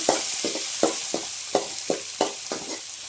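Green chilies sauté in hot oil for potato masala, with a spoon stirring in regular strokes roughly every third of a second over a soft steady sizzle, close by, no voices.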